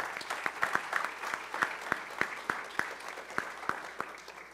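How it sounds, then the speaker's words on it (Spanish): Sparse, distinct handclaps from an audience at a national tourism forum welcoming a speaker, individual claps standing out in a quiet hall, moderately faint. "lo recibimos con un aplauso"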